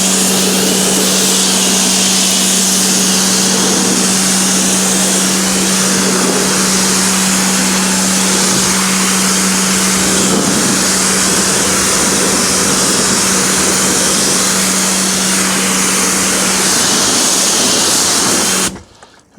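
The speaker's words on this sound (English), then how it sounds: "see the pressure washer is a bit powerful. It's an unadjustable Arva Evolution P80." An Arva Evolution P80 pressure washer, a non-adjustable 160-bar unit, runs continuously with a loud, steady hiss and drone and a constant low hum, then cuts off abruptly at the end.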